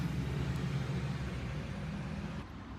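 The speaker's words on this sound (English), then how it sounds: "here goes the fire engine" A fire engine passes along a road near a roundabout, heard as a steady broad vehicle rumble with road noise that holds throughout, then eases slightly toward the end, with no siren standing out.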